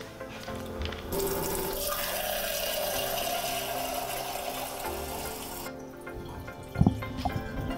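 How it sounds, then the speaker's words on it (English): Tap water pours steadily into a drinking glass, a close, continuous splashing rush that stops abruptly, followed by a few clinks and small drips. "how to fill up and drink a glass of water"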